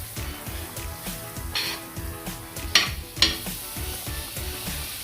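A tablespoon of butter sizzles softly in a frying pan before fish goes in, with steady gentle crackling and rhythmic scraping of a utensil stirring against the pan.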